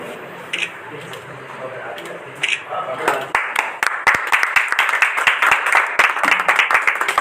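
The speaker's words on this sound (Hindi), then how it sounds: "तालियां बजाते रहिए।" After a few scattered claps, an audience at a poetry evening breaks into sustained applause, many hands clapping loudly and continuously.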